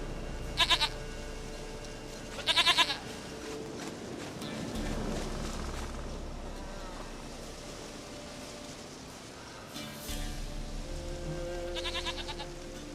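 Goat bleats in The Witcher 3, two short quavering bleats near the start and a third later, rising over a steady rain-like wash of ambient noise.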